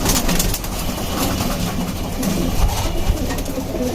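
Pigeons coo softly against a steady background rumble, with a few brief louder calls standing out near the middle and toward the end.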